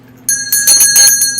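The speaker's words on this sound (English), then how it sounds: "My little bells." Small bells are rung to cleanse the energy of a room, giving bright shimmering chimes in a few quick shaken bursts, loud and close, with no talking.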